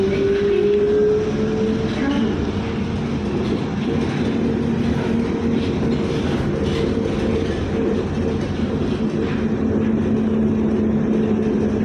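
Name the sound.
LRT light rail train riding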